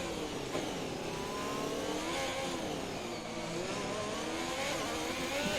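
Race car engine in the F1 2021 video game on the Baku street circuit, a steady high-pitched whine that rises and falls with revs, holding loud and continuous throughout with no talk.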